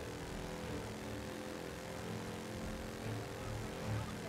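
Propeller airplane engine in Mafia: Definitive Edition, a steady low droning hum that holds a constant pitch and level throughout, heard alone.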